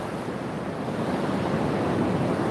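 Mediterranean Sea waves wash onto a beach in a continuous broadband roar, with wind buffeting the microphone and no voices.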